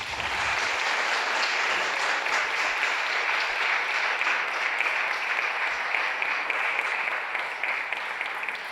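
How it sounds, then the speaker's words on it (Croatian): Audience applause closing an alumni talk, a dense, sustained burst of many people clapping at even loudness for several seconds, with no voices over it. "Jedan aplauz, molim vas."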